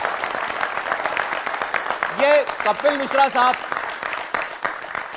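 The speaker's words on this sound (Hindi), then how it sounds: "जोरदार तालियों के साथ स्वागत करें।" Studio audience applause welcoming a BJP leader as a guest on an Indian TV talk show, a steady clatter of clapping running under a voice speaking over it throughout.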